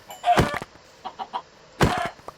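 Chickens in the Minecraft modpack FTB Skies 2 cluck and squawk up close, two loud bursts bracketing a few softer clucks, with no talk over them.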